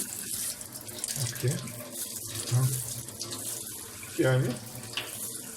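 Tap water runs steadily from a faucet during a dishwasher installation test, the hot supply fed from a solar water heater, with someone talking briefly over the flow.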